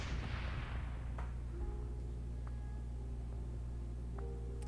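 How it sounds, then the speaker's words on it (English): An explosion bursts inside the Ares laboratory in the game Shadowrun: Hong Kong, a broad roaring blast at the start that decays into a low rumble, followed by a few scattered sharp clicks and tones. "The stillness of the Ares laboratory is suddenly rent by the unmistakable sound of an explosion."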